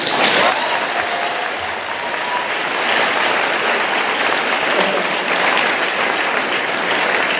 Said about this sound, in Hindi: यीशु के लिए तो तालियां होनी चाहिए।